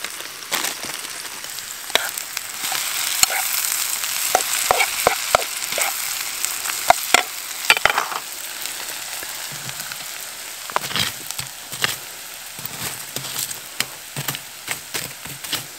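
A New York strip steak sizzles loudly in a pan inside a hot tent overnight, a crackling spattering hiss with frequent sharp pops and clicks throughout; no one talks.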